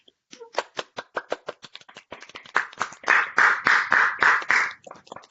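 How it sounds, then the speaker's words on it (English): Applause from a symposium audience, starting as a few sharp separate claps and building into denser, louder clapping that holds for several seconds with no talking. "Can we give a round of applause for everyone?"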